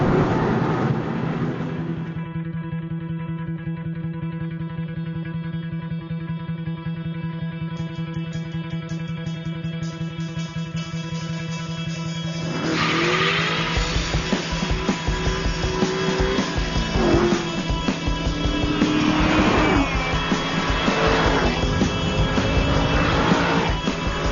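An Aston Martin V8 Vantage driven hard on a racetrack: a loud, sustained engine drone with strong harmonics holds steady, then shifts at a gear change into a rougher, rising roar that pulls on without pause, with no voices.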